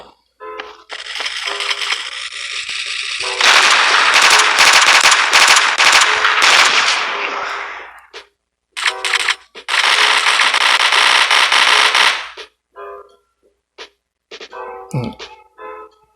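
Bursts of rapid gunfire from a burst pistol in the free mobile shooter game Coalition, two long loud volleys separated by a pause, then a few short isolated shots near the end.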